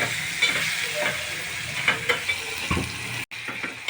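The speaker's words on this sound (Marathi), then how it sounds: "त्याच्यातच आपण कापलेला एक टोमॅटो टाकायचा आहे तो सुद्धा चांगला नरम होईपर्यंत आपण कांद्यासोबतच शिजून घ्यायचा आहे" Chopped onion and tomato sizzle and fry in a pan, a steady close crackle with occasional stirring scrapes and a brief dropout near the end.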